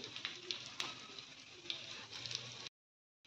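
Cucumber vadi cakes shallow-fry in oil on a tawa, giving a steady, close hiss of sizzling with scattered pops and crackles for a few seconds before the sound cuts off abruptly.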